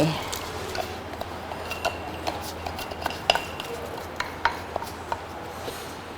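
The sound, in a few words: stirring millet grains in a cooking pot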